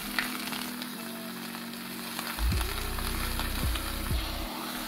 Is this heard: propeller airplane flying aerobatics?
no